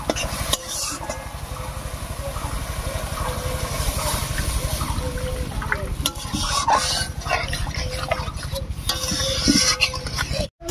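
Water poured into a pan of well-fried spice paste with slit green chillies for a Bengali puti fish curry, followed by steady rhythmic stirring and sizzling, close and continuous.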